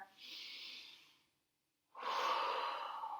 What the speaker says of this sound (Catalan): I una respiració profunda.